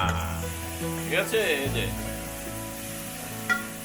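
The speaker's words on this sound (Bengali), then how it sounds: "রসুন বাটি দিয়ে, মশলা বাটি দিয়ে এটা গরম করতেছে আর কি।" Onion, garlic and spice paste frying in a hot pan, a continuous close sizzle with stirring scrapes, while a person speaks briefly over it.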